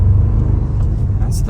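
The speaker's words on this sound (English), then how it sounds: "we backed up a little bit just so I could try to get up to speed real quick" Stock 2024 Toyota Tacoma fitted with 37-inch tires accelerating from a short backup on a road, a steady loud low engine and road rumble heard from inside the cab.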